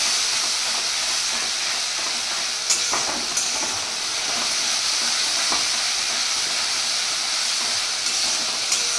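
Steady hissing sizzle of tomatoes frying in a pan, with a few faint clicks of stirring against the constant crackle.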